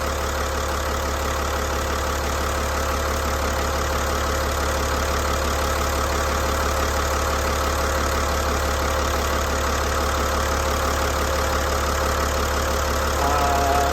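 A diesel engine runs at a steady idle nearby, giving a continuous low rumble with a fine rhythmic clatter and no change in level.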